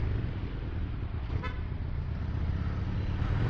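A single short car horn toots once over the low rumble of slow, congested afternoon traffic in Denpasar, with engines idling nearby throughout.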